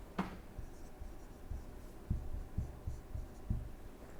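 A hand writing mathematical equations, faint scratchy strokes and soft taps on the writing surface, quiet and close with no voice over them.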